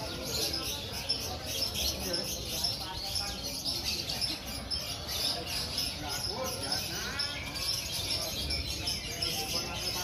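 Busy outdoor bird market in Prambanan, Indonesia, with many canaries chirping and tweeting continuously, layered over a murmur of distant crowd noise.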